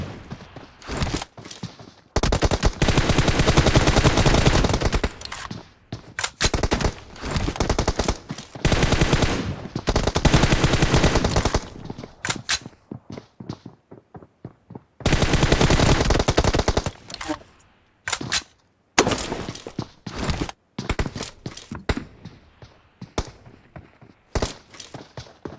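Automatic rifle fire in a multiplayer team deathmatch shooter game, loud sustained bursts repeating with short gaps over a long stretch, with faint talk in between.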